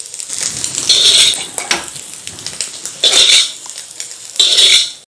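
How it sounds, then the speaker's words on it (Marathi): Egg omelette pieces scraped from a kadhai onto a plate for chicken fried rice, with loud metal spatula clanks and scrapes in three bursts separated by quieter handling, close up and without talk. "आता आपण ही एका प्लेटमध्ये काढून घेऊयात"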